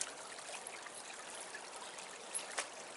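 Running water in hills makes a steady, soft broadband rush, a faint continuous stream or trickle with no voices and only slight swells in level throughout.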